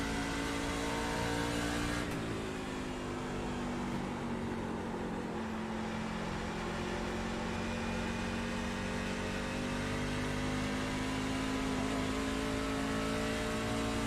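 Race car engine in iRacing, a steady droning whine held at fairly constant pitch, with a brief shift in tone early on and then a long sustained hum at moderate volume, no talking.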